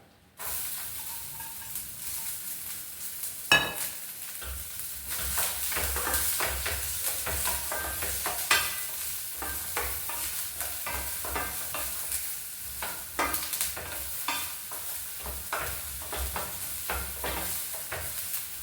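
Chopped ginger, green chili and onion frying and being stirred in coconut oil in a pan, a steady close sizzle and hiss with scraping stir strokes throughout, no talking.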